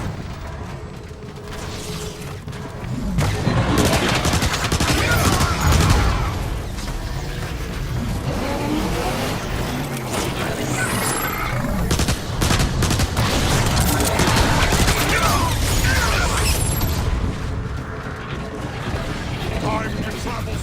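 Rapid gunfire and mechanical weapon clatter from the video game Transformers: War for Cybertron, loud and continuous with booms and ratcheting sounds, under in-game shouted voices.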